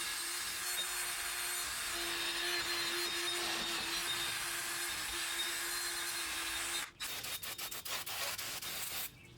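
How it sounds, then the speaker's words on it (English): The rusty brake hub of a 2002–2012 Nissan Altima is scrubbed clean with steady, loud abrasive rubbing that holds for about seven seconds, then breaks into quicker, choppier strokes. "we're just going to go ahead and clean the hub surface"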